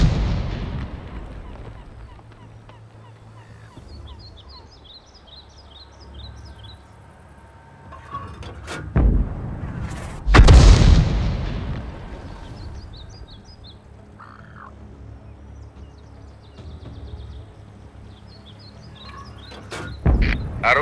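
A T82 HMC self-propelled howitzer in a video game fires a single loud, booming shot near the middle, followed by a shorter blast at the end, with faint bird chirps and low rumble between.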